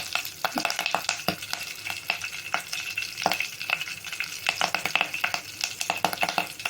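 Curry leaves drop into hot tempering oil for Andhra-style mudda pappu (mashed dal) and crackle and pop close up in a steady, dense sizzle with sharp bursts throughout, and no one speaks.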